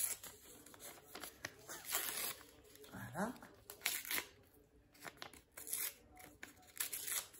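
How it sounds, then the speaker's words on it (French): Paper tears and crinkles in short bursts, close up, with a brief spoken word partway through and rustling between rips. "On va déchirer les bouts aussi."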